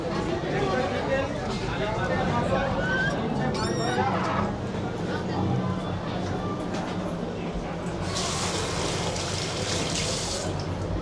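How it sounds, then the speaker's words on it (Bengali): Hands washed under a running water tap at a home sink, a steady close rush of flowing water heard throughout beneath people talking, with a brighter hiss of stronger spray near the end. "হাতটা ধুয়ে আসি।"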